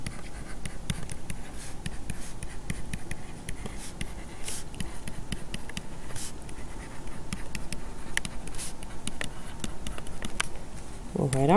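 A pen scratches steadily across a chemistry worksheet as a weak-base reaction is written out, a close, continuous scribble with small taps and pauses between strokes, with no talk over it.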